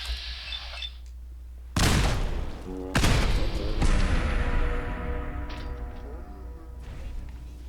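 Enemies open fire in Fallout 4, two loud sharp shots with crashing impacts followed by ringing, scattered echoes and lighter pops over a low background drone.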